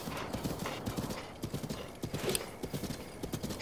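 A horse trots in The Legend of Zelda: Breath of the Wild, its hooves clip-clopping in a quick steady rhythm, close and continuous, with a faint whinny mixed in and no speech.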